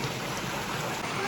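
Snowmelt water from the mountains pouring from a spout in a Srinagar garden, a steady close splashing rush without pause.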